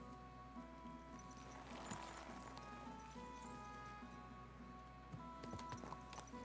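Faint horse hooves clop in a steady trot beneath a humming, tonal soundscape in the video game Kingdom Come: Deliverance II, with an occasional soft whinny-like sound.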